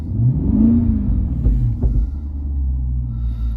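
A Jaguar XFR engine with a faulty charge cooler pump rumbles low and close, its pitch climbing briefly under throttle before easing back to a steady drone.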